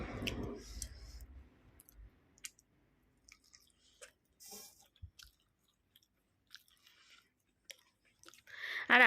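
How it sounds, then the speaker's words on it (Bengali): Someone eats a home meal close to the mic, with soft wet chewing and small clicks of mouth and utensils coming in sparse bursts between quiet pauses. "এখন আমি খাচ্ছি"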